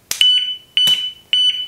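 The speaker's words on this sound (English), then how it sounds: "it has a built-in siren which is activated when tampered with" Three short, loud electronic alarm chirps from a padlock's built-in tamper siren, spaced evenly, each a sharp piercing beep with a brief tail, silence between them.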